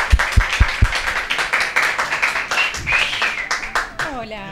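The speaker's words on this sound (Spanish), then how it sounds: "Aplausos, por favor." A television studio audience breaks into applause, opening with a few sharp, close claps before dense clapping builds, while talk and cheering voices run over it.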